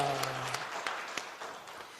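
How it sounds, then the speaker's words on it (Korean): A church congregation at a Sunday service claps to glorify God after a sung hymn: faint, sparse, scattered claps thinning out after a brief held tone at the start, with no speech. "박수로 하나님께 영광 올리십시다"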